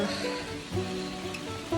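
Rain falls steadily outdoors on a humid hiking trail, a constant close hiss of drops with faint soft thuds and a low steady hum beneath.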